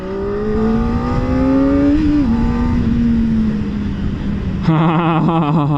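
A Kawasaki ZX4-R, a small 70-horsepower four-cylinder sport bike, revs steadily with a rising then falling engine pitch, loud and close, before a sharp jump to a higher, rougher rev near the end.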